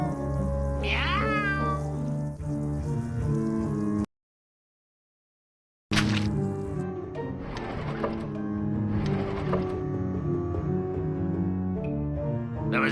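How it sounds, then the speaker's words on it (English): A cat in the video game American McGee's Grimm meows loudly and repeatedly over a steady mechanical whirring backdrop, with a brief gap of silence midway. "Meow. Meow."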